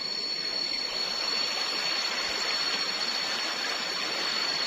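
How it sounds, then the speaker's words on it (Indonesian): Flooded river running through a forest, a steady broadband rush of fast water, loud and continuous with no breaks. "Sungainya banjir, terus dalamnya lumayan selutut gitu."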